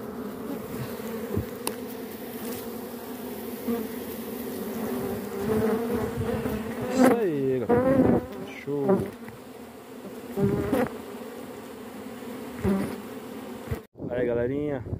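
Bees buzz steadily and densely as they move into a hive box during a rescue, a continuous close drone with a few louder passes near the microphone and no talking.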